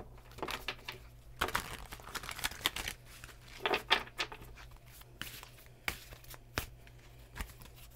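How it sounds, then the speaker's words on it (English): Tarot cards are shuffled by hand in a quiet room, making irregular bursts of soft riffling, slapping and crinkling at close range, with brief pauses between. "When the cards stick to my hands and like they don't fall, that's where spirit says, okay, you know, stop shuffling."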